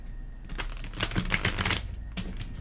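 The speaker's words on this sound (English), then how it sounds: "So shuffle one more time for you." A new deck of Light Seer's tarot cards is shuffled up close in a rapid riffling burst lasting about a second and a half, followed by a short second flutter, with no one speaking.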